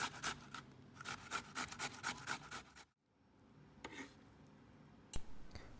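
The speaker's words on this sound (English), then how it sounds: "First, grate all your potato. You can do this by grater or food processor." Potatoes being grated by hand on a grater for Iranian potato fritters, a rapid series of close rasping strokes, then a pause and a few more scraping rubs.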